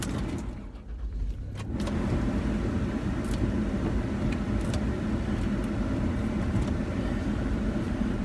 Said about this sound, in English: I'm driving home from the fun bowling place.